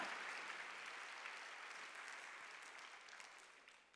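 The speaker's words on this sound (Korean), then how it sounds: "박수 치라 이야." A church congregation clapping during a Sunday worship service, a broad, even spread of many hands that stays fairly quiet and slowly fades over a few seconds.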